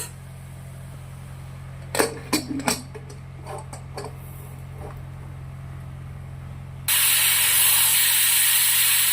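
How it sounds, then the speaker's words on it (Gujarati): Pressure cooker on a gas stove cooking cauliflower curry, a few sharp hissing puffs and rattles, then a loud, steady high whistle of escaping steam that runs to the end. "બે સીટી પડી ગઈ છે"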